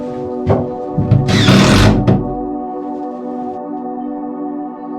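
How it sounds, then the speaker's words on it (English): A power drill whirs in a short burst amid a few knocks and clatters, then a steady mechanical hum lingers; close by, no speech. "Drill."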